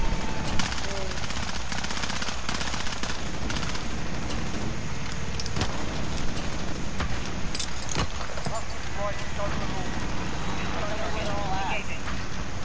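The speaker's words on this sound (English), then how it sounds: "do you like the helicopter that I sent in?" A helicopter arrives in a video game amid sustained machine-gun fire, a steady loud roar of rotor and wind-like noise with rapid bursts of shots throughout, close and dense, while voices talk over it.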